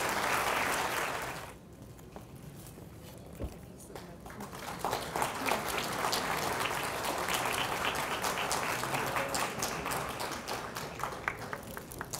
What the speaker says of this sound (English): Please give a round of applause to him for his coming.